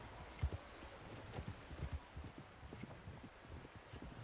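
Horses ride past in the RedM video game, their hooves clip-clopping in an uneven stream of soft, quiet steps. The sound stays faint and distant, with no talk over it.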